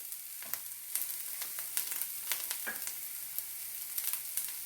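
Grated coconut and shallots roast in coconut oil in a pan, giving a steady soft sizzle broken by frequent small crackles and pops, heard close with no voices.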